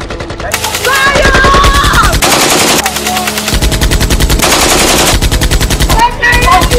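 Rapid automatic gunfire from a Nigerian action movie, loud sustained bursts of machine-gun fire with brief pauses between volleys, shouted voices mixed in.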